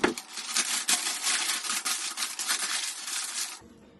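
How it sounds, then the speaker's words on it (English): A two-foot sheet of packing paper being crumpled by hand into a rough shape, a dense, continuous close crackle for several seconds that stops abruptly near the end. "taking a 2-foot piece of paper and crumpling it into a shape"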